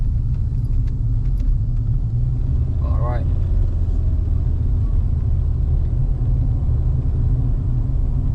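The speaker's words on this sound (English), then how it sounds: "looks like more cars are coming in" Cars drive along a road, heard as a steady low rumble that continues throughout. A person briefly says a word partway through.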